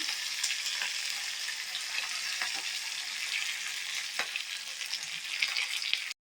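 Steady crackling sizzle of cumin seeds and curry leaves tempering in hot oil, with a few sharper pops; close and continuous, no talking.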